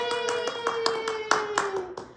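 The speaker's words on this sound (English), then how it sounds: "we want to show our appreciation by clapping" Several bursts of hand clapping during a children's storytime about dancers, sharp claps in an uneven rhythm over a sustained musical tone.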